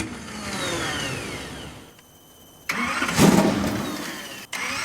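A 1975 Alfa Romeo T33/12 racing car engine cranks briefly, goes quiet, then catches and roars to life with a loud burst before settling into a steady, rough running rumble.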